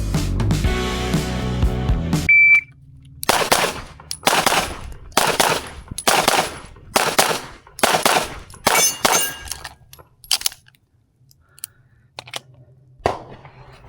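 Pistol shots at a USPSA practice session, about a dozen sharp, loud reports in quick irregular strings with short pauses between, following a brief steady tone from a shot timer, no talking.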